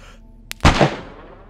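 A single sharp gunshot rings out in a shooting video game, loud and close, preceded by a faint click and trailing into a short decaying echo.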